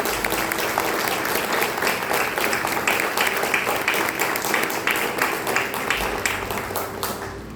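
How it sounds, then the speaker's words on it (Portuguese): Sustained applause from a church congregation during a family Sunday worship service, dense steady clapping filling the room for the whole stretch with no talk over it. "dá uma linda salva de palmas para o Senhor, que é bendito para todo sempre"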